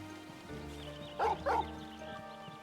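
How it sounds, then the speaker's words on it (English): A dog in the Final Fantasy XVI video game gives two short, close barks in quick succession, set over a steady bed of soft game music. "The dog knows the way."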